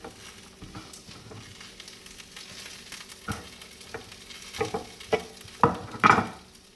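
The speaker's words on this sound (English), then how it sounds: "Dropping the bok choy into the pan." Bok choy fries in a pan with a low sizzle and scattered clatter from a utensil, building to louder spattering bursts near the end. No one speaks.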